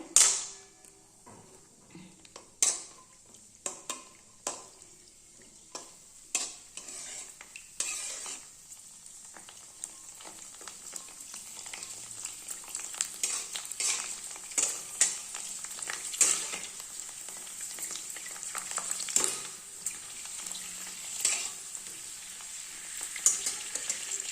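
Fuchka puffing in hot oil gives a steady sizzle that builds over about twenty seconds, with sharp utensil taps and clinks scattered throughout and no talking.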